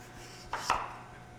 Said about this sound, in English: you're gonna cut your little squash into planks, like so